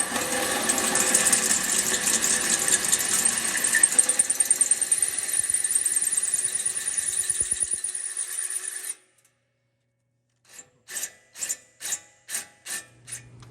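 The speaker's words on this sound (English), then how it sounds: "Yeah, use a wood bit, drill hole, some metal." Power drill fitted with a wood bit grinding into metal during a wideband sensor install on a 2002 WS6, a loud continuous whine for about nine seconds, then silence and a series of short drill bursts.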